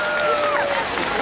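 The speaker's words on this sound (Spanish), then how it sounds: "¡Aplaudamos a Baltasar por su hazaña!" Audience applause and cheering at a Three Kings festival proclamation, a full wash of clapping crowd with a tonal whistle or voice gliding through it.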